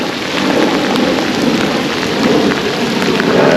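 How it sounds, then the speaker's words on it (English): A thunderstorm with heavy rain, a dense, steady roar of downpour filling the whole stretch at close range, with faint thunder rumbling beneath and no voices. "It's storming."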